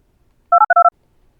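Keypad tones sound as a PIN code is entered on a BlindShell Classic 2 phone for the visually impaired, with four quick, loud electronic beeps in a rapid burst and silence on either side.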